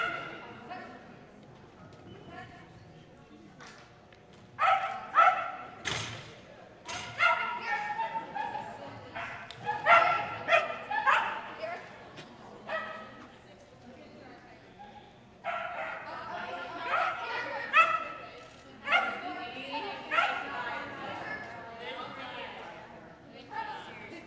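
A poodle barks and yips repeatedly in bursts during a dog-sport team tryout run. The barks are sharp and close and come at irregular intervals, while people talk over an indoor event space.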